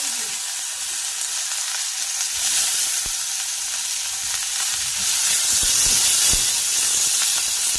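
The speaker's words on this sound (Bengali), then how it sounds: "এবার এই তেলের মধ্যেই আমি একটু দিয়ে দেবো গোটা জিরে ফোড়ন, আর তারপর দিয়ে দেবো এখানে কেটে রাখা পেঁয়াজ কুচি" Whole cumin seeds and chopped onion frying in hot oil make a steady, loud sizzle and hiss that holds throughout, with a few brief crackles and pops standing out near the end.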